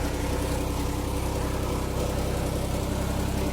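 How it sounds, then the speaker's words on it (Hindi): Engine of a heavy truck loaded with gum, climbing a slippery hill, a dense continuous low roar with a throbbing pulse, loud and close, no voices. "गोंद से लदे ट्रक, इंजन की गर्जना और फिसलन भरी जमीन पर पहियों के घूमने के साथ पहाड़ी पर भारी कदमों से चढ़ रहे थे।"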